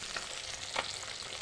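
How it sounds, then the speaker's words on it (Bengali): Rohu fish frying in oil in a pan, a dense, steady sizzle heard close up, with a couple of brief louder crackles. "মাছটাকে ভালো করে ভেজে নেব"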